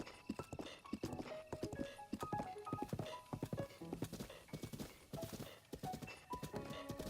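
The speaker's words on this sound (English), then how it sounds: "trying to pilot a horse in Breath of the Wild" Horse hooves clip-clop at a steady gallop pace in The Legend of Zelda: Breath of the Wild, mixed with bright musical tones and an occasional whinny, fairly loud and continuous.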